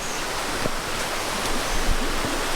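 A creek at a state park campground flows with a steady, broad rushing wash, continuous and fairly near, with no voices.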